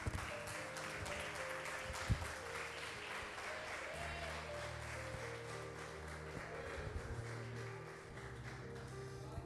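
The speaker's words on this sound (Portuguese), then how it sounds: "as palmas louvem a Ele" A church congregation claps in praise during a service, sustained rhythmic applause filling the room with faint tonal sound beneath it and one sharper clap standing out.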